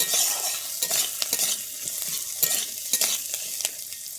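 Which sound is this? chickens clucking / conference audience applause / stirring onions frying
stirring onions frying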